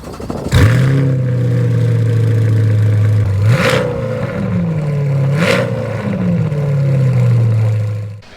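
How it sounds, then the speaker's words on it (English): A Corvette engine starts with a sharp crank, then idles with a deep rumble, revving up three times in quick bursts before settling back to idle. "he started this up for me and revved it"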